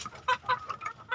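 Hens, breeding stock kept on a poultry farm, cluck faintly in short repeated bursts against low background noise.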